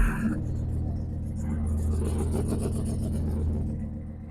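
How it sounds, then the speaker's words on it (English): A 1977 Squarebody truck with a small-block engine and RV cam idles in neutral. A steady, loud, low rumble continues throughout with slight swells and no talking. "Got a nice sound. Sounds like a small block with a RV cam, basically."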